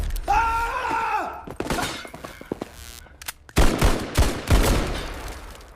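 A burst of film-style gunfire after a shouted command, loud overlapping shots and impacts in a spy thriller scene, with a brief vocal cry beforehand and dense rapid reports toward the end.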